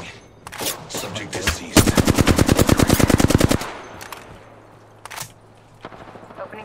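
Automatic gunfire in the Apex Legends video game, a rapid sustained burst of shots lasting about two seconds, preceded and followed by scattered single shots, loud and close over a low background hum.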